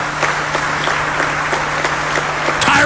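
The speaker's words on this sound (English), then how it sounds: "Listen to those criminals clapping" Audience applause fills the space loudly and steadily, a dense wash of many hands clapping without pause, with a brief shift in the crowd noise near the end.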